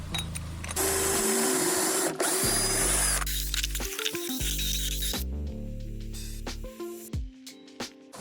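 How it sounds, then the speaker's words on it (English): Kreg Jig 720 Pro drilling pocket holes in cabinet panels, with a loud continuous whine of the drill biting, then shorter bursts and motor spin-downs with clicks, close by. "I'm making the pocket holes with a Craig Jig 720 Pro"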